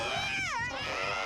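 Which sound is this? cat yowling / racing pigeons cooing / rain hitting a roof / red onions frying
cat yowling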